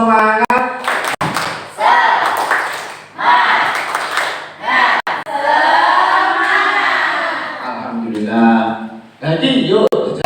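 A group performs tepuk semangat, an Indonesian rhythmic clapping chant, during a class session. Loud voices chant in bursts, punctuated by sharp hand claps and brief pauses.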